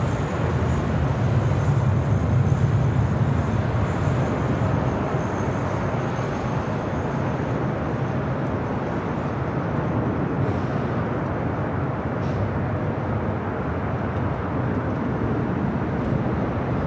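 Alaska Airlines Boeing 737 MAX 8 in special livery at LAX, a steady broadband jet roar that holds evenly throughout, loudest early and slowly easing, with no voices.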